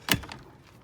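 A single sharp knock of a chicken pen door swinging shut, close by, with a faint rattle trailing off.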